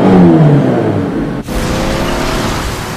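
A car engine revving as a hero drives in the Mobile Legends video game, a loud engine whir with a falling pitch sweep, a brief dip, then a steady close rumble to the end.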